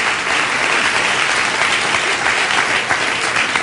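Audience applause from a played recording, a loud, even wash of many hands clapping that runs steadily throughout without pause.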